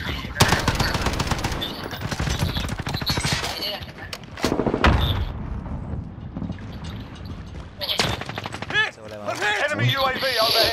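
Rapid, loud bursts of automatic gunfire and scattered single shots from the video game Call of Duty Modern Warfare, with a player talking and exclaiming over the shooting throughout.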